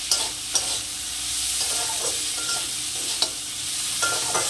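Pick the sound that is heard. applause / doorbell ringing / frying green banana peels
frying green banana peels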